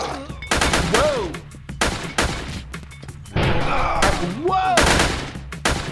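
Gunfire from other players in a video game, several loud bursts of shots and thumps in quick clusters with gaps between, and a man exclaiming over them.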